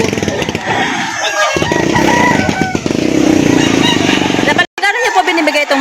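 Roosters at a busy chicken market in Lipa City, Batangas, crow over a steady din of voices, with clucking and a passing motorcycle mixed into the crowded, close-up market noise.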